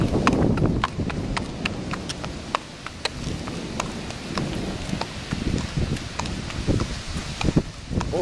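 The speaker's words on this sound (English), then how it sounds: "It's a big horse." Steady clip-clop of a big horse's hooves walking on a hard surface, evenly paced and close, with light pattering rain in the background.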